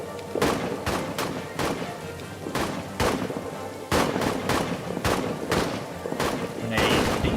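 Rapid bursts of gunfire from a trench warfare video game, All Quiet in the Trenches, with repeated sharp shots and fusillades spread through the clip, some heavier booms mixed in, and voices talking underneath.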